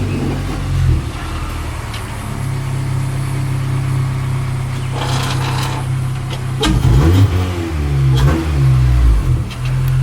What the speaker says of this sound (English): So now we're gonna bring the car up the driveway